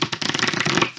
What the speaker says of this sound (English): Let me give it one more little shuffle.